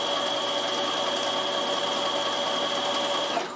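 A Bernina sewing machine runs a running zigzag mending stitch, giving a steady, continuous mechanical whir with a high whine that stops abruptly at the end, with no voices.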